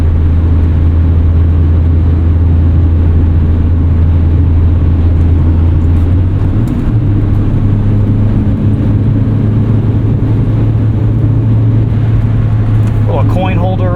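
A 1979 first-generation Honda Prelude engine holds a steady cruising drone at about 2,500 RPM and 60 mph, a constant low hum with road and wind rumble, a pitch shift midway, and faint voices near the end.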